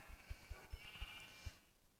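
Blocky sheep in the Minecraft video game bleat in a quick series of short, soft pulses at a steady rhythm, faint and without talking.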